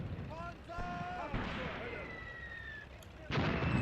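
High-explosive shells landing in the Graviteam Tactics: Mius Front wartime tactical game: muffled rumbling blasts beneath voices or chatter, ending in a sudden louder, broad burst near the close.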